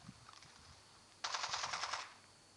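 A rapid burst of automatic gunfire from a video game machine gun rattles for under a second, steady and fairly loud against a quiet background.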